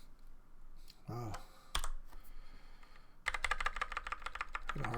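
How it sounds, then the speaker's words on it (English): Bursts of rapid clicking keystrokes on a computer keyboard, starting and stopping, then a longer fast run of typing near the end; fairly quiet and close. "Had a hard time typing that out."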